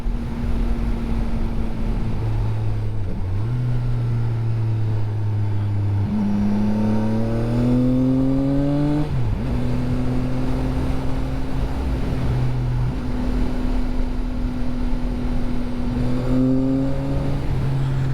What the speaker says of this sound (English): Has a really cool intake noise.